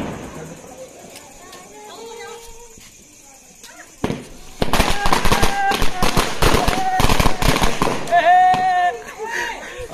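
Murga Chhap Diwali firecrackers set off outdoors, two lit together: a quiet stretch with voices, then a loud, rapid run of sharp bangs and crackling bursts that keeps going for several seconds while people talk.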